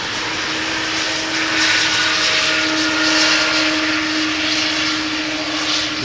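An airliner landing at Amsterdam Schiphol puts out a strong, continuous jet roar with a steady whining tone over broadband rush, surging gently in loudness as the engines spool, with no voices.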